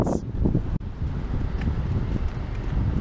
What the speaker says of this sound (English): Plus it's windy.